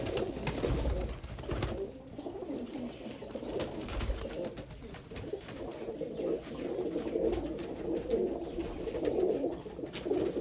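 A small collection of pigeons coos continuously in low, rolling waves, moderately close and fairly quiet, with occasional soft clicks and rustles.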